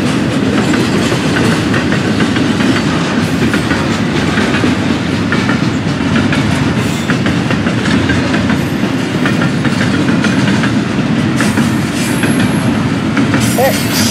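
FEC freight train passing on freshly worked roadbed, a steady close rumble with repeated clickety-clack of wheels over rail joints and occasional faint wheel squeal, continuous for the whole stretch.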